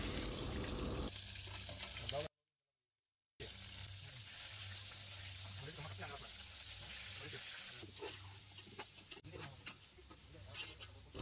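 Onions sizzle and hiss steadily in hot oil with whole spices such as bay leaf, clove and cinnamon stick. The frying runs close and constant under a voice, with a short break of silence.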